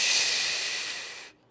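A single long, forceful exhale during a floor workout with weights, loud, close and hissing, holding steady for over a second before cutting off into near silence.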